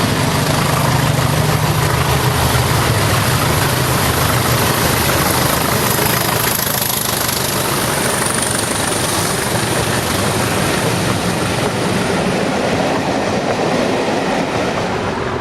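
Two British Class 37 diesel locomotives, 37308 and 37309, open up hard at Bowling hauling the Autumn Highlander, a loud, sustained roaring engine thrash with steady rumble and rail noise throughout, no voices.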